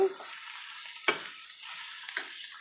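Shredded cabbage with roasted dal is mixed in a pan, a faint soft hiss punctuated by two brief scraping stirs, quiet and close with nothing else heard.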